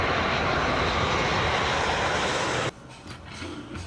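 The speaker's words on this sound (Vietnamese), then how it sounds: "Máy bay." Airplane engine roaring loudly and steadily as a broad, continuous drone, then cutting off abruptly to a quieter, murkier background for the final second.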